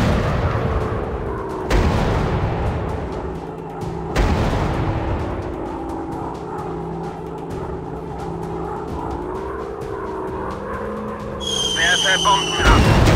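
Bombs dropping and anti-aircraft fire in a WW2 dogfight video game, heavy booming blasts over a steady engine drone, with a sharp burst near the end and a voice speaking over the action.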